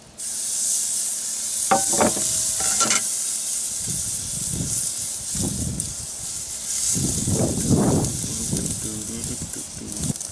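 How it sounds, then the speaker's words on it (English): Steak searing on a Big Green Egg grill fired to about 650 degrees, with a steady close sizzle and hiss throughout and scattered bursts of crackle, plus faint clinks of tools. "With the egg fired up to around 650 degrees, it's time to sear the steak."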